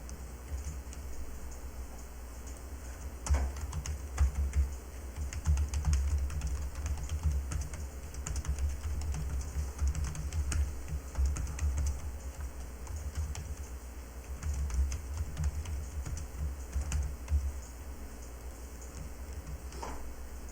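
Steady typing on a computer keyboard, keys pressed as Ctrl+T shortcuts followed by Enter, with irregular clicks running throughout over a low constant hum, close and moderately quiet.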